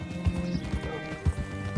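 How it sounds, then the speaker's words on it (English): Horse hooves clip-clopping at a slow, uneven walk, a handful of soft thuds fairly close by with a faint whinny-like tone behind, no talk. "Hitch your horse up here."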